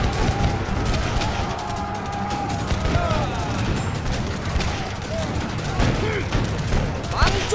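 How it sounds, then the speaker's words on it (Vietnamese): Gunfire volleys ring out in a Vietnamese historical animated film about resistance against the French at Bảy Thưa, dense bursts of shots and crashes over a noisy battle, loud throughout, with voices mixed in. "Bắn chúng cho ta!"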